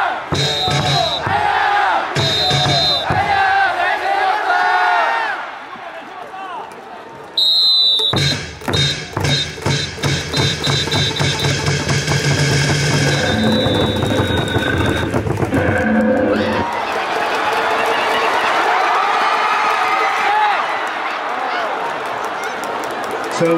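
Crowd at a KIA Tigers home baseball game at Gwangju Champions Field chanting player Han Seung-taek's name, loud and continuous, with rhythmic group shouts, cheering and clapping mixed in.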